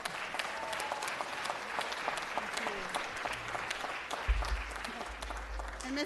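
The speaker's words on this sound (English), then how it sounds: "One more round of applause." Audience applause fills a city council chamber, a steady patter of many hands at moderate distance, fairly quiet overall, with a faint low hum and murmur of voices underneath.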